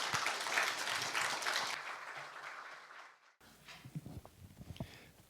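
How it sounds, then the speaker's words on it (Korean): A lecture audience gives dense welcoming applause that fades after a few seconds. Scattered clicks and light knocks follow, like someone moving to a podium. "큰 환영의 박수 부탁드립니다."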